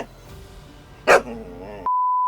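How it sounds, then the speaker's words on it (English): A pet dog gives one short, sharp bark indoors, followed by a brief tonal murmur and then a steady electronic beep. "My dog was barking his head off."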